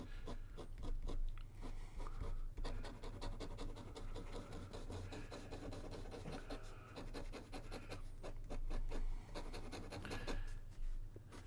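A Montegrappa Gnomo fountain pen with a stub nib moving across paper, giving a faint dry scratchy feedback in repeated short strokes, close and quiet with no voices.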